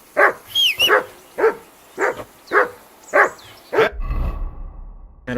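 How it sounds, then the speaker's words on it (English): Dog barking in Kingdom Come Deliverance 2, a run of about seven sharp, loud barks in steady rhythm over roughly four seconds, then cut off by a low rumbling game ambience. "whistle at that mutt of yours to stop barking"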